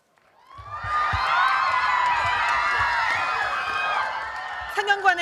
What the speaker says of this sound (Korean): 범죄도시2의 배우들이 모습을 드러내자 환호와 박수갈채가 쏟아집니다.